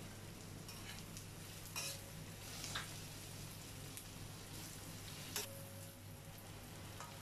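Garlic cloves and black peppercorns sauté with golden-fried onions in a pan, a faint continuous sizzle broken by a few soft stirring scrapes over a low background hum.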